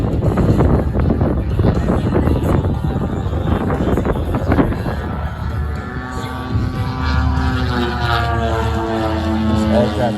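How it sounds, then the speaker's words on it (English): A large RC model aircraft with a DA-120 gas engine flies at an air show demo, its engine droning steadily and its pitch shifting as it passes, under wind noise and an announcer talking over a loudspeaker. "This aircraft is powered by DA-120."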